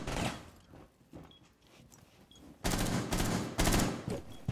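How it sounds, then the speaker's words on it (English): Gunfire in Rainbow Six Siege: scattered single shots early, then dense loud bursts of rapid automatic fire crackling close by in the second half. "I'm getting shot at. From window."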